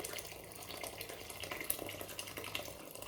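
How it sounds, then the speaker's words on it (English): Water pours into a cooking pot on a stove, making a faint, continuous splashing stream throughout with no speech over it. "from here, we're going to add our water."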